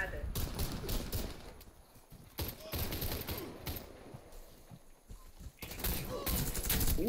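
Rapid gunfire rattles through a PvP match in the Warface video game, with dense bursts and single shots over continuous game noise, while players talk on voice chat.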